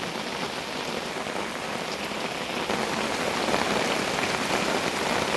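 Heavy rain pours steadily onto surfaces around a Kerala home, a dense, even hiss that swells slightly louder partway through, with no talking.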